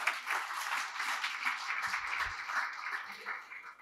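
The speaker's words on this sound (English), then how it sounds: "So can we give them a round of applause," Applause from an audience at a conference event, thanking the sponsors: a fairly faint, steady patter of many hands that fades slightly toward the end.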